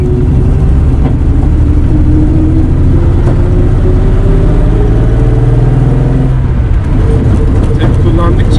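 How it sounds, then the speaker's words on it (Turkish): A classic Mercedes-Benz 300SL Gullwing engine rumbles and revs loudly and steadily up close, with crackling exhaust pops mixed in, while people talk over it. "Egzozdan gelen patırtılar."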